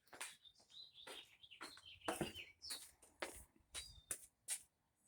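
Wild birds chirping and calling at close range in short, sharp bursts, with rustling and scuffling noises mixed in throughout.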